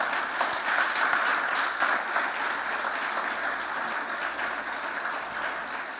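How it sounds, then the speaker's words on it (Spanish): Congregation applause during a church sermon: a long, steady roar of many hands clapping together, moderately distant and even, holding constant before easing off gently. "dale un aplauso al Creador"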